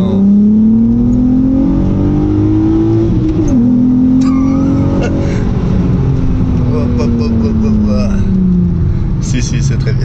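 A Volkswagen Golf R32 accelerates hard from inside the cabin, its engine note climbing in pitch through the gears with a brief dip at a shift, loud and close, while occupants talk over it.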